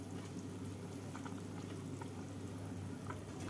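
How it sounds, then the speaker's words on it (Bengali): Gravy for raw-banana and chhena kofta bubbles at a steady boil in a pan, a continuous close simmering hiss with faint pops scattered throughout, no talking. "ঝোলটা ফুটে গেছে"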